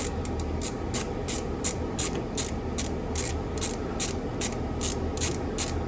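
Ratchet clicking in a steady series while spark plugs are twisted into a Mitsubishi Starion cylinder head, a close, crisp rhythm of pawl clicks with no talking.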